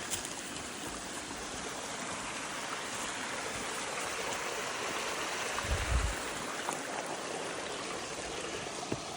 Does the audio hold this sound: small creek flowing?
yes